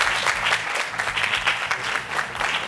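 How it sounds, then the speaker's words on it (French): A young studio audience at a youth television programme applauds loudly in continuous, close clapping, with a low rhythmic music bed pulsing underneath. "Amis jeunes, je vous demande de l'applaudir très fort."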